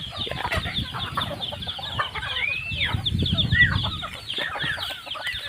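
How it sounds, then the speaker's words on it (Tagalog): A flock of chickens with chicks clucks nearby in a yard, with busy overlapping clucks and calls rising and falling over rustling background noise. "Dami ng manok."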